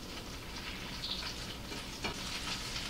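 Potato cakes with cheese sizzle in a pan, a steady close crackle of frying oil with faint spatters and no talking.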